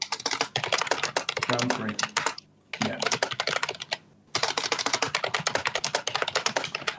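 Rapid, clacky computer keyboard typing, hard and aggressive, runs almost nonstop during a $10k charity tournament match, with people talking over the dense stream of key clicks.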